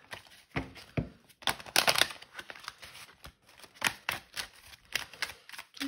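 Oracle cards shuffled and drawn by hand, giving a quick run of dry papery flicks, slaps and riffles in uneven bursts, close and fairly soft, with no talking.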